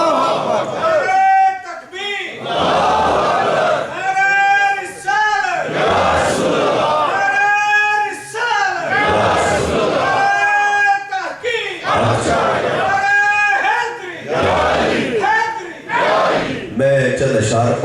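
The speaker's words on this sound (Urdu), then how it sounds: "میں نعرہ لگاتا ہوں، نعرے کا جواب دیجئے" A large congregation at a Milad gathering in a Burnley mosque shouts loud collective responses to religious slogans, repeated call-and-response bursts of massed voices separated by short pauses.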